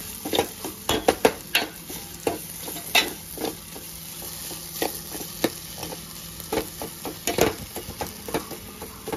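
Tomato and grated coconut roasting in a pan for a tomato amti, with a frying crackle broken by frequent sharp clinks and scrapes of a spoon stirring against the metal, close and fairly loud, no talk.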